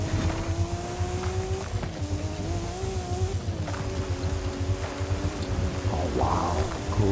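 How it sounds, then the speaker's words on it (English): An Audi RS7 driving in a video game, a steady, moderately loud engine drone holding a constant pitch with slight shifts, continuous and alone without talk. "great car, the Audi RS7"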